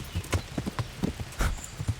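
Horse hooves gallop in the medieval video game Kingdom Come: Deliverance, a quick, uneven run of clip-clop beats that is moderately faint, with no talk over it.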